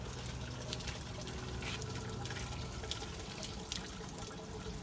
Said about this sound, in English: in a second, you'll see water come out through the black tank